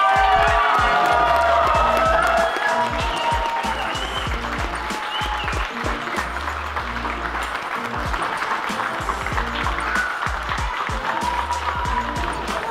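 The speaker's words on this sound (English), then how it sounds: "give one more big round of applause" An audience gives a big round of applause to celebrate participants beginning a weight loss journey: a dense, steady wash of clapping and crowd noise that holds loud throughout.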